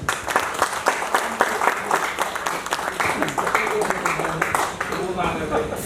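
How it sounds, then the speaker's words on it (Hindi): Audience applause at a corporate award night, a dense, steady burst of many hands clapping throughout, fairly loud and close. "आई थिंक संजीव सिंगला को जो प्यार करते हैं वो ढेर सारे तालियाँ में।"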